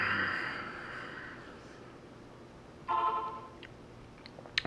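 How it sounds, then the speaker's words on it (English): A phone gives a brief burst of alert tones from National Weather Service updates near the end, following a steady background hiss, outdoors at a grill where pork ribs cook as a thunderstorm approaches. "Phone's going crazy with all the National Weather Service updates."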